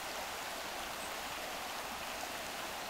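A river running low in Glen Esk flows with a steady broadband rush of water, continuous and fairly close, with no voices.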